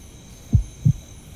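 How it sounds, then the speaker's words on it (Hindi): Heartbeat sound effect from a Hindi-dubbed action romance film: two deep, booming low thumps about a third of a second apart, loud and isolated over a faint steady hum. "तुम्हें सुनाई दे रही है क्या मेरे दिल की धड़कन?"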